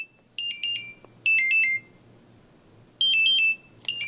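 Timer alarm on a clock going off in repeated bursts of rapid electronic beeping, each burst of trilled tones lasting about half a second with short gaps, fairly clear and near over a faint background hum.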